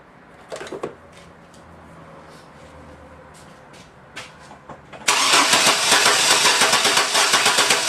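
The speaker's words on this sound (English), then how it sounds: "Let's crank and see what we have." An engine cranks for a compression test, starting with a few faint clicks and shuffles and then breaking into loud, continuous rhythmic cranking that runs close by until the end.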